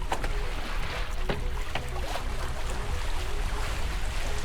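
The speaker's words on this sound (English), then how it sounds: "So now we are sailing." A sailboat under way with jib unfurled and mainsail sheeted in, giving a steady wash of water and wind noise with faint creaks and knocks throughout, no talking.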